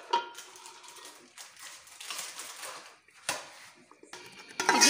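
A spinach and fenugreek paste is fried in a pan, with a spatula scraping and clattering against the metal in short, uneven bursts and quiet gaps between them.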